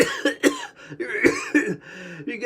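A person coughs hard and hackingly, a rapid series of harsh, close bursts with rough throat-clearing between them, loud and alone with no talk.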